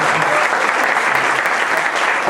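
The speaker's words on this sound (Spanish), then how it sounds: "vamos a despedir con un fuerte aplauso" A crowd at a memorial tribute to Colombian musicians applauds loudly and steadily, a dense wash of clapping from many hands that continues throughout.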